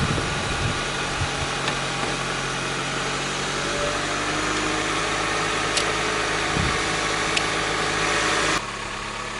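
A car engine idles nearby after a jump start with a low, even hum, holding steady throughout apart from a few faint clicks.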